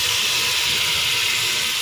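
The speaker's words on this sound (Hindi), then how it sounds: "अब हम इसमें थोड़ा सा पानी ऐड करते हैं।" Water poured into a hot pan of frying curry with yogurt, onion and oil for a desi chicken or meat shorba, giving a loud, steady, steamy sizzle and hiss that holds for the whole stretch with no talking.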